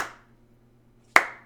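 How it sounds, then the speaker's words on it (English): A single sharp hand clap rings out with a short echo, following the fading tail of an earlier clap, slow and deliberate in an otherwise quiet room. "Lycus is slow clapping me."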